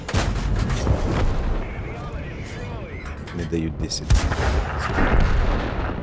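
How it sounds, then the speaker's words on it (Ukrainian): Artillery fire in the War Thunder tank game on a highway map, booming shots and rumbling explosions layered with engine and battle noise, while someone talks over the gameplay. "І десь зашкірився артилерист, а він стріляв, а це гріль."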